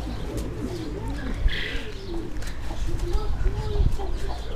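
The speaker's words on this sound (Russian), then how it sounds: "Кто это тут? Голубь." A pigeon at a mini zoo gives repeated low, throaty coos, fairly close, with other fowl clucking faintly in the background.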